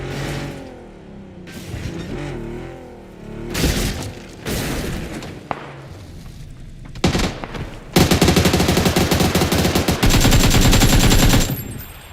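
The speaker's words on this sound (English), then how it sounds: "There's somebody shooting at him." Gunfire in the PUBG battle game, bursts of shots and heavy booms building into long, loud, dense rapid-fire volleys toward the end.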